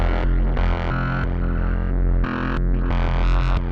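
Majella Implexus synthesizer's complex oscillator playing dry, with no reverb or chorus: loud, harmonically rich sustained tones that shift pitch and timbre across a few held notes, with no talking.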